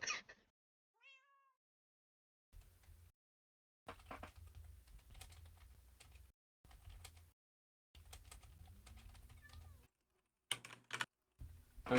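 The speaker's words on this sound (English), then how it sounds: "My cat wants to come into my room." A house cat meows at the door, wanting to come into a room, heard as a short meow early on amid bursts of close computer keyboard typing.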